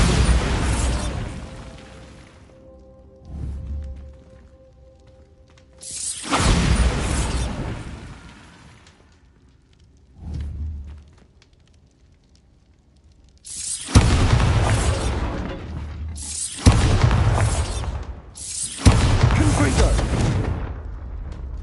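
Bombarda and Confringo spell explosions in Hogwarts Legacy, a series of loud booming blasts with short gaps, ending in a quick cluster of three heavy bursts, each decaying into rumble.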